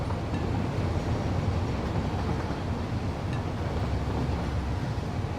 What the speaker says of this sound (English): the actual train lines are actually busy running again